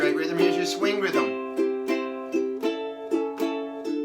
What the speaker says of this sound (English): Here's your swing rhythm.